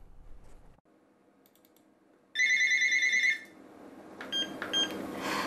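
A telephone at a crisis center hotline rings once with a bright electronic trill, loud and close, after quiet room tone and some light clicking, followed by more faint clicks and tapping.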